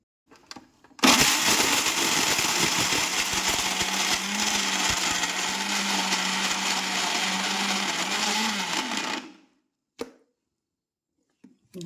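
Cut coconut pieces being ground in a mixer grinder jar: a loud, continuous whirring roar that starts abruptly, runs for about eight seconds, then stops, followed by a couple of faint knocks.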